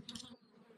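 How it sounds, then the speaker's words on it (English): Bees foraging on thistle flowers give a brief, faint buzz up close, a short hum that fades after a moment into quiet outdoor background. "See some of these bees working the thistle"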